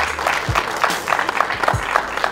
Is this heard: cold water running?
no